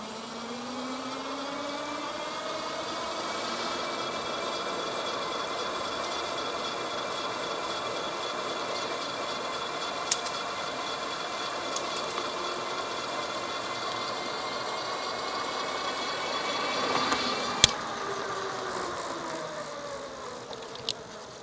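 A Himiway electric bike's motor whines steadily under throttle alone while climbing a hill, a continuous high-pitched buzz that rises slightly in pitch, with wind and road noise underneath and a few brief clicks and knocks near the end.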